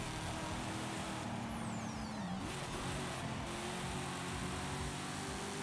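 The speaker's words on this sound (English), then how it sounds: "This car sounds awesome." A racing car's engine in the Forza video game drones and revs as it drives, with a shifting pitch and a brief dip mid-way, steady and fairly faint throughout.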